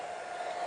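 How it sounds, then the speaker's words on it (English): A hair dryer on a cool setting blows steadily, giving a continuous close whooshing whir with no other sounds. "if you just bring in a cool hairdryer"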